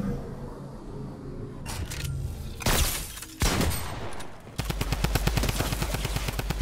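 A drum gun in Fortnite Battle Royale rattles off a fast, steady stream of automatic shots near the end, preceded by scattered louder bursts and impacts during a close firefight.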